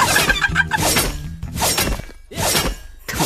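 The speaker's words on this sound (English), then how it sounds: "parang bato lang yung sound effect niya" Repeated heavy, crunchy impacts with a rocky, breaking texture, landing in an uneven rhythm, loud and close with some tonal game sounds mixed in.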